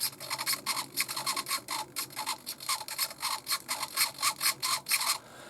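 An RC car servo buzzes close by in quick, uneven bursts, a steady chattering run of short whirs with no talking, on a Tamiya Porsche Cayenne S Transsyberia model.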